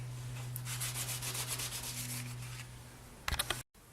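Fine-grit sandpaper, about 8000 grit, rubs steadily over a small handmade polymer clay jewel piece in a run of quick, soft scratchy strokes, close and fairly quiet, ending with a few brief knocks.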